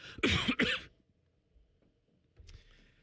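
A person gives two loud, harsh coughs close to the microphone, followed by quiet and a short rustle or throat noise near the end.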